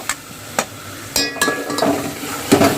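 Spoon scraping and clinking against a frying pan while coconut and garam masala are stirred in for a chicken curry, with soft sizzling between the irregular metallic knocks.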